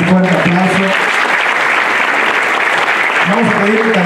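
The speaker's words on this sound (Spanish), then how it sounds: "para que le demos un fuerte aplauso" Loud, dense audience applause filling the space, a continuous roar of clapping with a voice speaking over its start and end.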